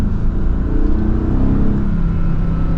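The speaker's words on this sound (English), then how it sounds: "that was like the littlest rev ever" A Mercedes-AMG GT S sports car engine hums and revs briefly in a small, steady, throaty drone, close and loud without any voices.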